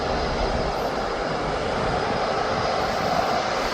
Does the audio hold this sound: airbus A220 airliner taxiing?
yes